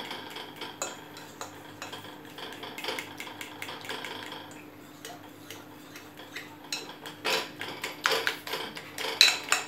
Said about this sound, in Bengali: এটা একটু সময় ধরে ফেটিয়ে নিলে ভালো ফুলবে